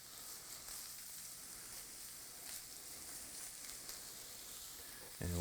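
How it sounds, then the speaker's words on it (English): Turkey roll pieces fry in oil in a pan with a steady, faint sizzle and hiss, ending in a sudden louder crackle or scrape at the very end. "Oil in with our turkey."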